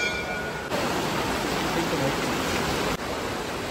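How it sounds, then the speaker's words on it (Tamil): Flowing water of the Thamirabarani river near an old temple, a steady, loud broadband rush with no break throughout. "அது வந்து தண்ணியோடைய சத்தம் தான்."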